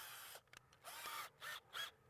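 A power drill with a 3/8 bit boring holes for sleeve bolts while a draft-proof insulated mail slot is being installed, heard as three or four short whirring bursts separated by brief pauses.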